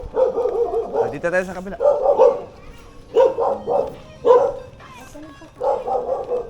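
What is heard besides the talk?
dog barking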